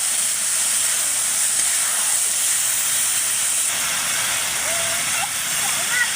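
Broth poured into a hot pan of sautéed vegetables with moringa drumsticks and greens sends up a steady, loud hiss of steam and sizzling that runs on without a break, while a voice is faintly present.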